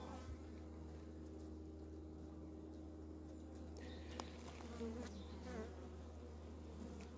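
Dense, continuous buzzing of many honeybees close by, a low steady drone with faint rustles and taps over it.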